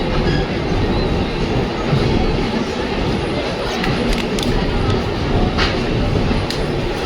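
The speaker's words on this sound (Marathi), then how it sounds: "आता ट्रेन निघाली आहे पनवेलवरून" From inside the Hazrat Nizamuddin special train leaving Panvel station, a steady loud rumble of the moving carriages carries faint rhythmic wheel clatter and occasional high squeals.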